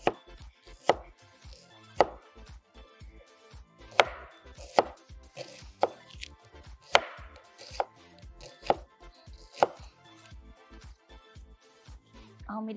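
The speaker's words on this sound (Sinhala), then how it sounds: "ඒත් එක මම දැන් කපා ගන්නවා." An onion is chopped with a knife on a cutting board, with steady sharp knocks in an uneven rhythm, some strokes louder than others, close by and heard alone.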